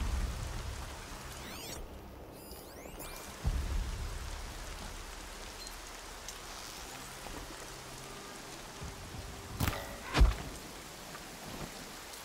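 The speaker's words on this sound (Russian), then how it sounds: "Удачно, что сейчас ночь у нас, и дождь идет, приглушает шаги" Steady rain falls at night in the video game Horizon Zero Dawn, a constant hiss of drops with a low rumble of thunder and a couple of sharper cracks near the end.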